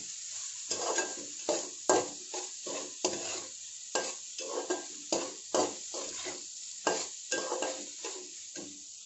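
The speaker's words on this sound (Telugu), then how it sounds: "ఒక నిమిషం పాటు వేయించుకోవాలి." Ginger-garlic paste and masala fry and sizzle in a pan for chicken curry gravy, stirred again and again, with rhythmic scraping strokes over a steady close hiss and no voices.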